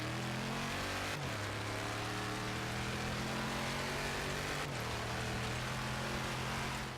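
A car in Forza Horizon 3 braking and downshifting into fourth: a loud, steady engine drone with two abrupt pitch shifts as gears change, heard alone and continuous.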